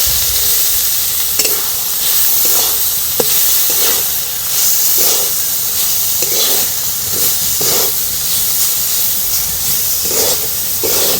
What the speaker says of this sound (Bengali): এবার এই গ্রেট করা আমের বীজগুলো দিয়ে দিই।